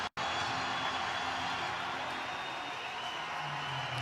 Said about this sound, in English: the two teams are ready to be greeted by this crowd